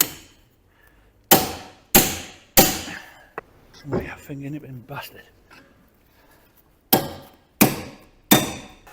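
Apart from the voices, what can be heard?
hammering metal kingpin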